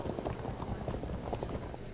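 Cavalry horses move in the strategy video game Field of Glory II, giving a steady dense clip-clop of many hooves throughout, with a faint voice beneath.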